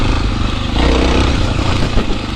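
Suzuki DR650 motorcycle chugging slowly up a rocky trail, a loud, close, uneven low thump of the single-cylinder engine with irregular throttle surges across the whole stretch.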